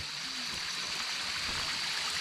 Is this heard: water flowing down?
yes